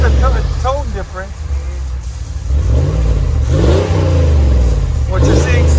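A 2020 RAM 1500 with a 5.7L HEMI and a Dynomax turbo muffler revs in a deep exhaust rumble, rising and falling in pitch with each blip. Someone talks over it.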